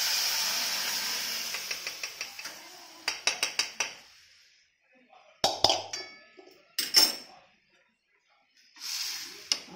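Cooking on three lit gas burners in a home kitchen: a steady hiss gives way to bursts of metallic clinks and clatters from pans and utensils, separated by brief quiet gaps, with a final hiss at the end.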